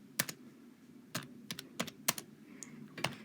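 A computer keyboard space bar clicked repeatedly, sharp close taps at an uneven rhythm, about eight or nine presses in a few seconds, faint against a quiet background hum.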